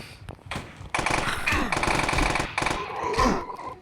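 Rapid bursts of automatic gunfire in the video game Slaughter, loud and close, with near-continuous rattling volleys and voices now and then.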